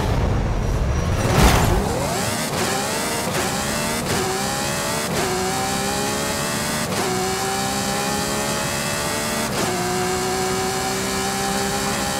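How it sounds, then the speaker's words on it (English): A 1987 Ferrari F40 engine revs in the racing game Forza Horizon 5, starting with a sharp loud burst and then climbing repeatedly through rising gear pulls, each shift clearly marked, close and loud with no talking. "1987 Ferrari F40"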